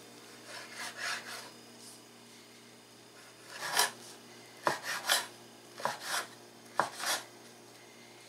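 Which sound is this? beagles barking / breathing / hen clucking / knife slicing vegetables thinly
knife slicing vegetables thinly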